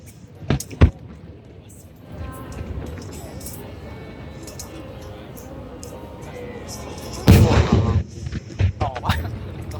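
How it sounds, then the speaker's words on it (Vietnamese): Large fireworks burst in loud, booming explosions: a sharp pair of blasts near the start, then a heavier crackling cluster later, with crowd voices murmuring between the bangs. "Pháo siêu to."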